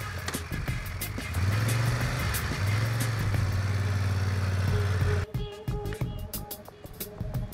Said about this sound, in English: the Moto Guzzi Stelvio, a bike of Italian design made for long-distance riding